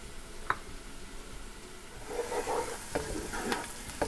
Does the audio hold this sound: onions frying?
yes